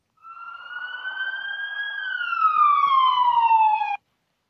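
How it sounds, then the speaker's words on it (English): An ambulance siren approaching: one loud, steady electronic tone that rises, holds, then sweeps downward, heard clearly with no other sound over it. "They're on their way to bring an ambulance"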